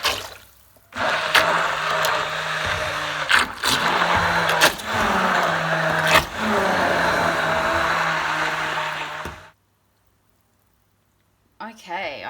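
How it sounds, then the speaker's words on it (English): A blender whirs through a Jerusalem artichoke and leek soup, a steady loud motor drone broken by a few sharp pulses, then cutting off abruptly into silence before a brief sound at the end. "So I've gotten all of the Jerusalem artichokes all blended in and all the leek"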